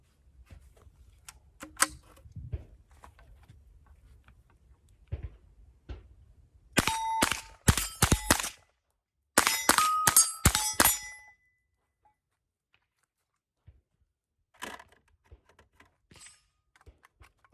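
A rimfire rifle fires at targets, two clusters of sharp, rapid shots ringing out close and loud, with quieter handling noise before and a few isolated clicks afterward.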